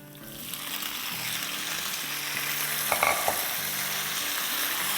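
About a kilo of boiled potatoes sizzles as it goes into a hot pan for aloo ki sabzi, a steady close frying hiss with a few clinks of stirring near the middle.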